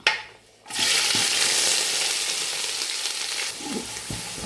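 Onion, green chilli and curry leaves sauté in coconut oil in a thin pan for chicken stew, a sudden loud sizzle bursting in and holding steady with a few stirring scrapes.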